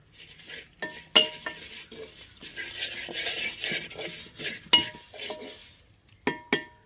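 A spoon stirs coriander and turmeric powder in a pan on the stove, giving scraping rubs and a few sharp metallic clinks against the pan, close and moderately loud, with no talking.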